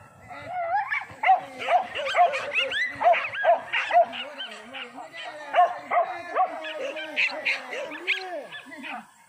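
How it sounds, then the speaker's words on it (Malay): Several dogs bark and yip in quick, uneven bursts with a few whimpers, fairly close, while people talk faintly underneath. "Banyak macam anjing."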